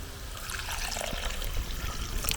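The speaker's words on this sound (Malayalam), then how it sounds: "തിളച്ച വെള്ളം ഒഴിക്കാം" Boiling water pours steadily into chicken curry for a few seconds with a soft trickling hiss, close by and moderately quiet.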